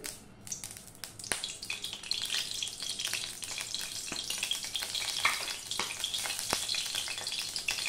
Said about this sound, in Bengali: এবার আমি দিয়ে দিলাম সর্ষের তেল